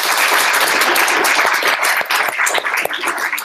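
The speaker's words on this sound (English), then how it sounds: "let's give a more round of applause" A crowd at a hackathon fireside chat claps enthusiastically in a short, loud burst of dense applause, with individual sharp claps standing out as it goes on.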